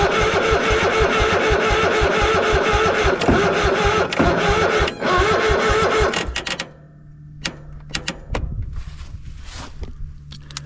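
Engine of an abandoned Craftsman lawn mower cranking and running roughly for about six seconds, loud and steady, then cutting out, followed by quieter clicks and knocks.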